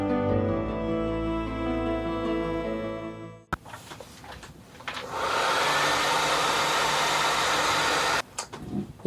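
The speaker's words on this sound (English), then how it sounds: "I did pull out my hairdryer" A hair dryer blows steadily to dry paint on tabletop miniatures, a close, loud whooshing airflow that starts after about three and a half seconds, following a different tonal hum, and briefly dips near the end.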